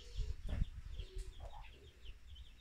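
Chickens clucking on a pig farm, a scattered run of short nearby clucks and squawks over low barnyard background noise, fairly faint, with no voices.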